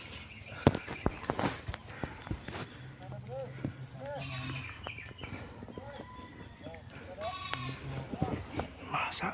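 Goats bleat several times at moderate distance outdoors, short wavering calls spread across the clip amid footsteps, insect buzz and occasional clatter.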